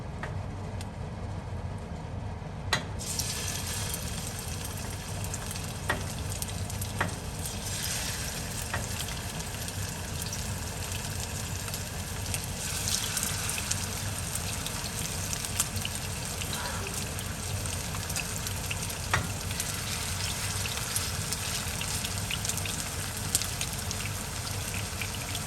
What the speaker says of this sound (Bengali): আমি কি করবো, আস্তে আস্তে শিক কাবাবসগুলো ছাড়তে থাকবো।